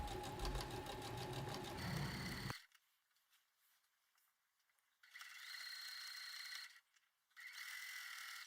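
A sewing machine runs a topstitch seam along the edge of a dress to hold the facing in place. It makes a loud mechanical whirring burst, then stops, then makes two more shorter bursts separated by pauses.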